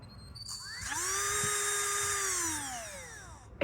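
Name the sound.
drill motor running after being hooked up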